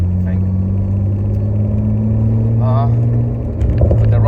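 A modified BMW E30 fitted with an E46 engine drives past. Its steady, loud engine drone and hum run throughout, with a person talking over it near the end.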